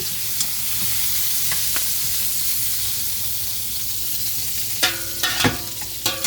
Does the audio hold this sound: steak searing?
yes